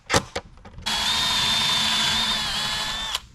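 Power drill driving a screw into wooden camper bed pieces, a few short handling knocks followed by one steady close whir lasting about two seconds.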